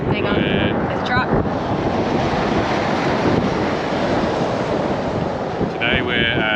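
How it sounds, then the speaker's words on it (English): Strong wind buffets the microphone aboard a boat on open water, a steady roaring rush with waves, while a voice talks briefly at the start and end. "the wind is only going to get stronger as the afternoon goes on."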